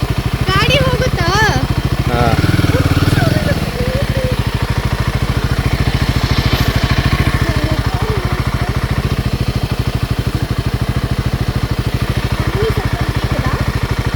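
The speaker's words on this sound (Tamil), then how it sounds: "இது என் இன்ஜின் சத்தம்." Motorcycle engine idling and running steadily near a waterfall trail, a close continuous rapid thrum throughout, with people talking over it early on.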